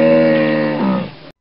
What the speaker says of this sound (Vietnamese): Con hà mã.